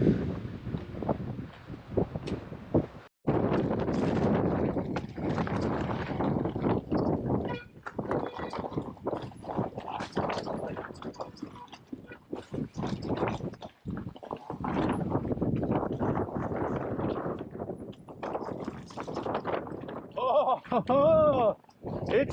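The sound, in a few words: strong wind on a snowy mountain top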